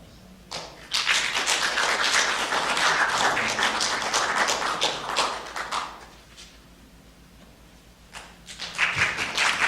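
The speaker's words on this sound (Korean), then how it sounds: "자, 다 같이 다시 한번 박수로 한번 축하드립니다." A church congregation at a Salvation Army anniversary thanksgiving service claps in a burst of applause that thins out midway, then picks up again near the end, with no talk over it.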